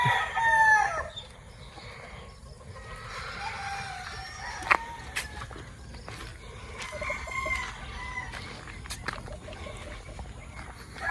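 A Gary Gilliam round head gamefowl rooster crows once near the start, followed by softer clucking and occasional sharp metallic clicks over a quiet yard.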